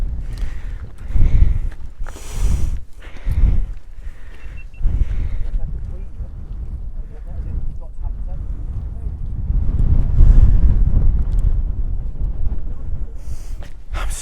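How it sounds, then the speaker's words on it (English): Gusty wind buffets a hillside during a tough UK mountain backpacking and wild camping event, a loud rushing roar with fluctuating gusts that swell toward the end, with some breathy voice sounds mixed in. "Bit windy"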